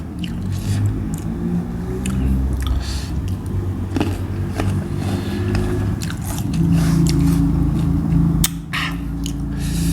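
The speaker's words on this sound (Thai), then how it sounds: "กรอบมาก มากอกน้ำ" Crunchy water olives are bitten and chewed up close, with wet crunches and squishy mastication running continuously and a few sharper bites standing out. No one speaks.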